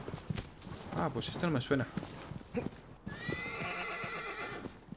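A horse in Shadow of the Colossus clip-clops at a run and then gives a bright, drawn-out whinny, with someone talking over the hoofbeats before the neigh.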